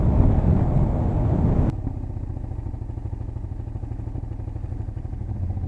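A motorcycle engine runs under a steady drone, then drops to a lower, rougher idle-like rumble with a quick click as the rider pulls the clutch lightly and shifts up.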